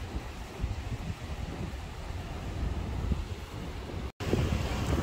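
Wind and waves at a seashore, with steady rushing surf and heavy wind buffeting the microphone, loud and continuous, with a brief dropout near the end.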